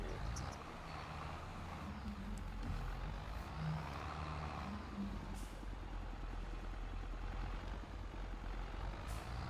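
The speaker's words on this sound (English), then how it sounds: "Gosh, my tractor can barely go." Tractor driving over bumpy field strips in Farm Sim 25: a continuous low engine drone with a rumbling, uneven undertone, steady and fairly quiet throughout, with no talking.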